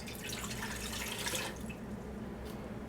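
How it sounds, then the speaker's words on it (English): About two cups of water are poured into the square pan of a Ninja Speedi cooker, a soft, steady trickle and splash that fades after about a second and a half into faint drips, close and quiet. "I'm just going to go ahead and add 2 cups of water."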